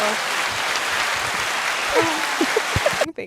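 Loud, dense applause from a crowd, steady throughout before cutting off abruptly near the end.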